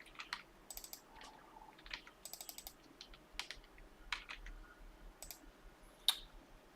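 Computer keyboard typing, quick irregular bursts of light key clicks, close and fairly quiet, with brief pauses between runs.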